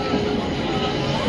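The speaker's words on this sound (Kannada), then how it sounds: "ಪಕ್ಕದ ಪ್ಲ್ಯಾಟ್ಫಾರ್ಮಲ್ಲಿ ಯಾವುದೋ ಟ್ರೈನ್ ಡಿಪಾರ್ಟ್ ಕೂಡ ಆಗ್ತಿದೆ" Steady, loud low rumble of a departing train, the Bengaluru–Hubballi Superfast pulling out from the next platform at a station, continuous with a faint rhythmic clatter.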